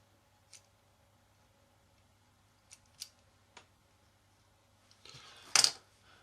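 Cutting plastic parts from a Tamiya 1/48 Mosquito model kit: a few sparse, sharp snips, then a louder cluster of cuts near the end, close and otherwise quiet.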